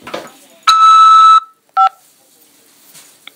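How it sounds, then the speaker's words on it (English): A prison collect call line gives a long, steady electronic phone beep, then a short two-tone blip a moment later, loud and clear with a faint hiss of line noise around them. "After the beep, press 5 to accept this call."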